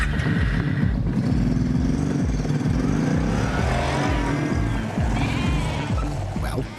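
Sheep bleat repeatedly over a constant low rumble of engines or machinery near a Hong Kong luggage-sorting setting, several overlapping calls close and loud throughout, with no talk.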